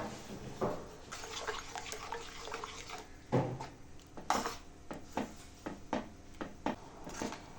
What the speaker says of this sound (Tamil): அதோட தண்ணி தான் நான் இப்போ ஆட் பண்ணுறேன்